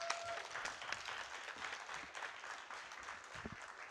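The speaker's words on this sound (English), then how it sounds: "can we have a more thunderous round of applause" Audience applause at an industry conference session, a faint, steady patter of clapping lasting a few seconds, somewhat distant in the hall.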